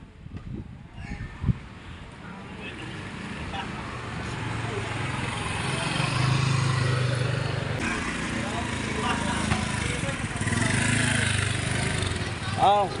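A motorcycle engine runs steadily nearby during a beginner riding lesson, a continuous low rumble that swells and holds, with people talking over it.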